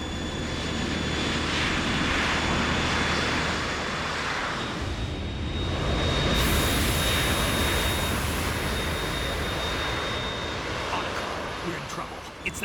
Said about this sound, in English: It's the Harrier.